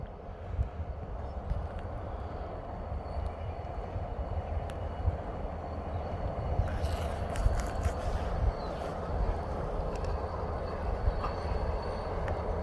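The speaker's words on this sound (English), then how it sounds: "There goes the train." A train rumbles steadily nearby as it pulls away on a bitterly cold winter day around minus thirty, with a low continuous roll and faint rattles throughout.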